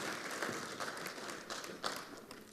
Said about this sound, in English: Ladies and gentlemen, can you please give all the delegates a round of applause?